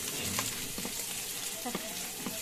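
Ground pork frying with ampalaya (bitter melon) in a multi rice cooker, a soft steady sizzle with a few light stirring scrapes, fairly quiet.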